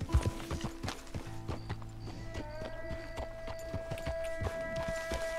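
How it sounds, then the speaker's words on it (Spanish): Horse hooves clip-clopping in Red Dead Redemption 2, a run of distinct close hoofbeats in an uneven walking rhythm, slowing toward the end over a quiet background hum. "Vamos a dejar aquí el caballito."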